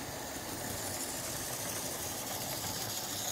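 A Triang Hornby model diesel locomotive, styled after an EMD F unit, runs along its track with a steady, even whirring rumble that holds at the same level throughout, with no voices.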